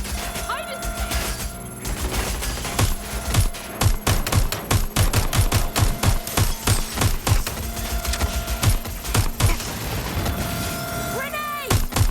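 Sustained automatic gunfire in the Watch Dogs: Legion video game, rapid sharp bursts rattling for many seconds with an accompanying musical score, loud and close, voices briefly heard amid the shooting.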